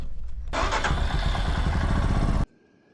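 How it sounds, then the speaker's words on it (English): A motorcycle engine fires up abruptly and runs loud and close with a rough, steady idle for about two seconds, then cuts off, while the bike is being moved at a remote old school converted into a lodge in Iceland. "let's move the bike first"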